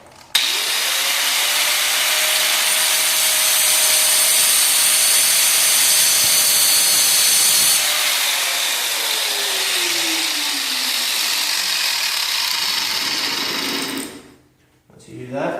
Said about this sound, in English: You want to take your grinder with your cutoff wheel.